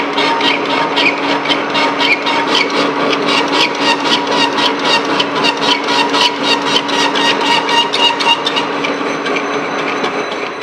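Lucas horizontal boring mill cutting a keeper key for a Kwik-Switch holder, with a steady, loud rhythmic rasping chatter of the cutter biting into metal, repeating about three times a second over a constant machine hum, no talking.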